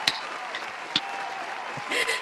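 Audience clapping at the start of a morning interview, a sustained wash of applause with a few sharper individual claps, fairly near and steady, swelling slightly toward the end.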